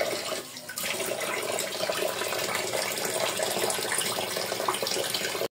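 Hot running water streams continuously while kachki and chela dried fish are washed, a dense steady rush from start to finish that cuts off abruptly at the very end.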